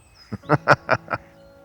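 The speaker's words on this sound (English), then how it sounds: "As you can hear the birds. What a beautiful chorus to wake up to" Birds at a lake at dawn in the Lake District, calling near a tent by the water. Five loud, nasal, duck-like quacks come in quick succession, close by and with no talk.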